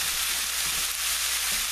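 Steady, close sizzling of food frying in a hot pan, a continuous crackling hiss with faint stirring underneath.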